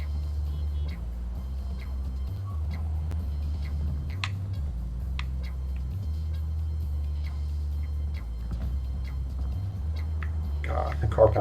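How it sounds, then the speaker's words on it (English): A car driving in Cyberpunk 2077, its engine a steady low hum that shifts pitch a few times, with no clear voice on top. "God, the car bounces around a lot."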